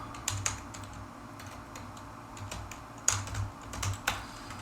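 Computer keyboard typing while an SQL query is entered: quiet, close key clicks in short irregular bursts with brief pauses, over a faint low hum, no speech.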